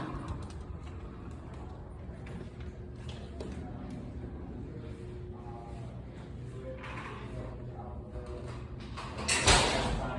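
Doors at a school leading to the Yorktown Aquatic Center pool in Arlington, Virginia, are pulled open, a mechanical clunk and latch rattle over steady outdoor background noise, with a louder bang near the end.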